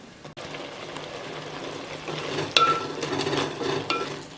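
Thick carrot halwa bubbling and being stirred in a pan as the milk reduces with sugar, a steady close sizzling bubble with scraping stir strokes and a sharper clink of a spoon around the middle and near the end.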